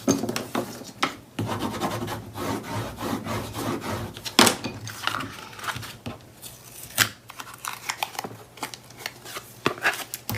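Paper tabs being pressed flat while building a handmade horizontal album, with a run of close scraping, rubbing and tapping noises against paper and card.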